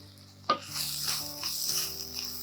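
Ginger garlic paste drops into a hot pan with a sharp clank, then sizzles and fries steadily up close while a spoon stirs it now and then.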